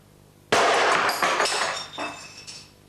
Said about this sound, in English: if I hit this resin sufficiently hard with the hammer,